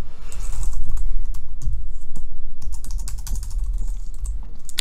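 Rapid typing on a computer keyboard while entering C++ code, a steady run of close, crisp key clicks with brief pauses, heard alone without talk.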